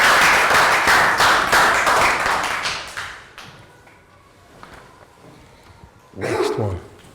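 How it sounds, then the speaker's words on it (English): Young children clapping in a primary classroom during a science lesson, a loud burst of claps that fades over about three seconds, followed by quieter shuffling and a short thump near the end. "Round of applause for Net."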